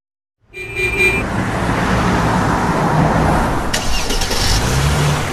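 In a radio fuel advert, a car engine starts after a brief silence and settles into a steady, loud running rumble with road-like noise, ending with a short higher burst.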